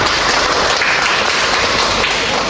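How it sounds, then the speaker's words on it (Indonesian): Audience applause at an academic teaching presentation, a dense, continuous wash of clapping that stays loud and even for a couple of seconds with no talk over it. "Aplaus untuk Saskia."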